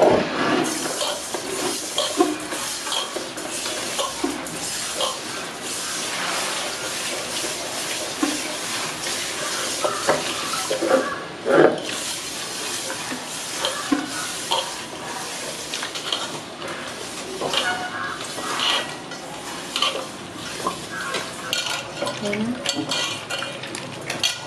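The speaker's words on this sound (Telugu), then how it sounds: "ఇప్పుడు లాస్ట్లో ఒక గుప్పెడు రాళ్ళ ఉప్పు వేసుకుని శుభ్రంగా ఈ పచ్చి రొయ్యలు క్లీన్ చేసుకుంటే" Raw prawns scrubbed by hand with a handful of rock salt, a continuous wet rubbing and gritty rustling with scattered clinks against a bowl, steady and close for the whole stretch.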